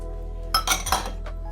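Shrimp dropped into a pot of tom yum soup give a few quick clinks and a soft splash against the metal pot, brief and close.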